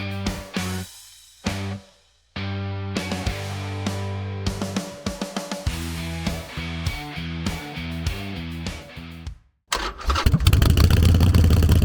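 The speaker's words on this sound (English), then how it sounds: "I will just take the Sportster out." A Harley-Davidson Sportster motorcycle engine cranks and fires near the end, loud and close, rising into a rough idle after a long stretch of tonal music.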